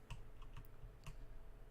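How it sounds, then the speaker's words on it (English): Fingers tap the keys of a computer keyboard in a sparse, irregular run of faint clicks with short pauses between presses while playing a game. "I need to hit the right buttons on the keyboard."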